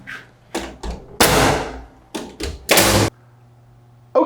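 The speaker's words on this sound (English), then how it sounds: "I'm going to come back and hit it with the bigger nails and nail it into the framing" Bigger nails hammered through door casing into framing around a door unit with a transom, as a run of loud, close, sharp blows in uneven groups with short pauses.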